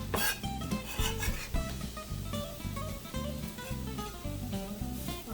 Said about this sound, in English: All of this is going right into my pot